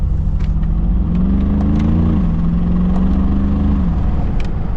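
A Mercedes-AMG G63 G-Wagon engine drones loudly and close, its pitch rising and then dropping twice as the transmission upshifts quickly under a steady road rumble.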